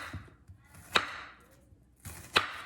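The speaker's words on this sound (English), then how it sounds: "Chopping up my onions." A sharp kitchen knife chops onions on a board with a couple of crisp, distinct strikes spaced over a few seconds, close and fairly quiet, with faint background noise between the cuts.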